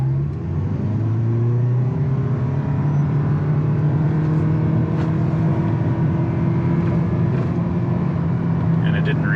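A 2023 Toyota Prius hybrid in sport mode accelerates from 0 to 60 mph. A loud, steady drone rises gradually in pitch from inside the cabin for the whole stretch.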